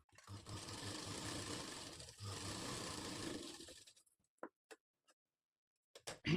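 A sewing machine runs steadily while stitching the shape belt of a katori blouse, a continuous close whir for several seconds, then stops and leaves a few isolated ticks and clicks.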